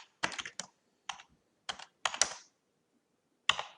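Fingers tap on a computer keyboard in short bursts of clicks separated by pauses, close and fairly quiet in an otherwise silent room.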